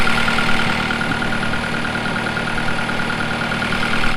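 A skid steer's diesel engine idles steadily nearby on a farm, a constant low rumble and faint tonal hum, no talking.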